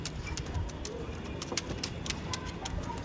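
Andhra pigeons coo softly inside a loft amid scattered clicks, shuffling and faint rustling, a low busy background with no clear voices.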